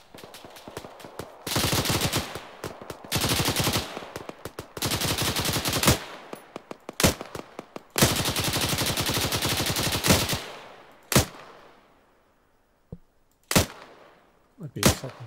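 Gunfire in an Arma 3 firefight: long bursts of automatic fire alternate with short gaps, and single sharp shots follow. The bursts are loud and close, and the firing trails off to scattered isolated cracks near the end.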